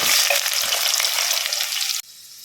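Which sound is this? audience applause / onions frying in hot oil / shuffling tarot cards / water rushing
onions frying in hot oil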